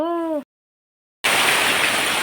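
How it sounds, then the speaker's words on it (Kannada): Heavy continuous downpour lasting hours, a loud, dense, unbroken roar of rain filling the latter half after a short voice and a sudden gap of silence. "ಇಂಥ ಜೋರು ಮಳೆ ಅಂತ ಹೇಳಿದರೆ ಒಂದು ವಾರದ್ದು ಎಲ್ಲ ಮಳೆ ಒಟ್ಟಿಗೆ ಬಂದಿದೆ"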